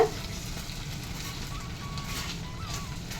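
Srirangam temple-style jeera sweet mixture stirred in a pan over heat, a steady soft sizzle with faint scraping running continuously, fairly quiet and without voices.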